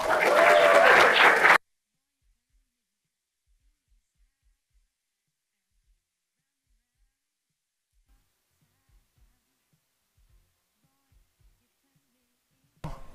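Audience applause greets a speaker at a RailsConf 2024 conference talk: a dense burst of hand clapping from a large crowd for about a second and a half, then near silence before a voice begins at the very end.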